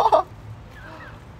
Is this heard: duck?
yes